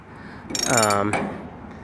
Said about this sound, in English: right now we're just using a ratchet